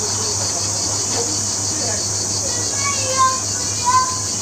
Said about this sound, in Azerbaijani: çox böcək hara uçdu getdi